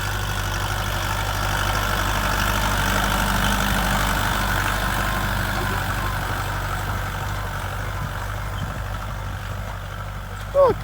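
A Dongfeng 404 tractor pulls a homemade disc harrow across stubble, its engine droning steadily at a distance in a low, even hum. A brief knock sounds near the end, and some faint background speech is mixed in.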